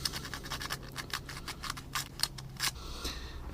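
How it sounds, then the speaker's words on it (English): Sandpaper rubbed by hand over a part during work on a Starcraft, a steady series of short, scratchy strokes repeated in a brisk rhythm, close and moderately loud, with no talking. "A little sandpaper on this."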